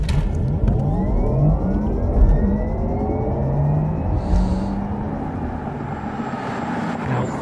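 A Porsche Taycan electric car under launch-control acceleration, heard from inside as a loud sustained roar of road and wind noise with rising whining motor tones sweeping upward.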